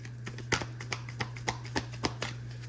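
Tarot cards being shuffled in chunks up close, a series of about eight sharp, evenly spaced riffling snaps over a steady low electrical hum, with no talk.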